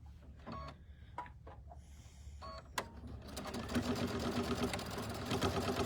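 A sewing machine tacks fabric tabs in place on a cinch bag, opening with a few short bursts and pauses, then settling into a steady, continuous close-up stitching run.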